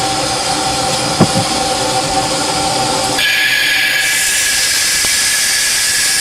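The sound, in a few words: steam locomotive engine brake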